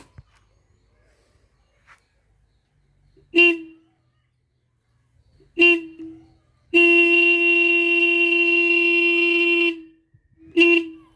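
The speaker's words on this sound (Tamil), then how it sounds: "அடுத்தது சாவி ஆன் பண்ணி ஆரன் அடித்து பார்க்கலாம்" A motorcycle horn, powered by a homemade 12-volt battery, sounds in short beeps, then one long sustained blast of about three seconds, then another short beep, loud and close in otherwise quiet surroundings.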